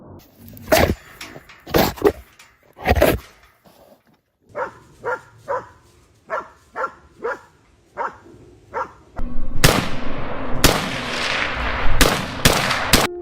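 Gunshots during a wild boar hunt: several sharp reports with barking dogs between them, followed by a dense burst of loud noise near the end.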